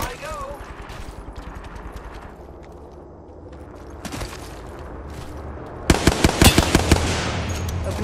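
Video game gunfire breaks into a burst of rapid automatic shots near the end, loud and close over a rumbling battle background, with game voice lines mixed in.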